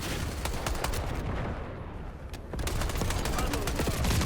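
Rapid gunfire from a gun in Black Ops 6, a dense run of sharp shots that pauses briefly midway and then resumes, loud and close, with game noise layered underneath.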